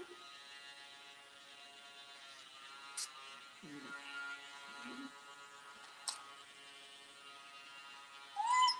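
Electric nail grinder working on an active dog's nails, a steady faint buzzing hum throughout with brief touches and a short dog whimper near the end.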